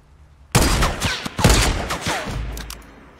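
Sniper gunshots in Fortnite ring out after a brief quiet start, several loud cracks in quick succession with echoing tails that fade away toward the end.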